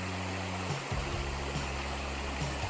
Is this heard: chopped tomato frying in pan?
no